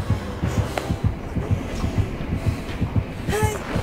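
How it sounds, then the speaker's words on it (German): A heavy, steady heartbeat pulse thumps from the Dead by Daylight video game, a regular low double-beat throb repeating about twice a second under a dense game-noise wash, with a brief rising tone near the end. "Hört ihr auch den Puls?"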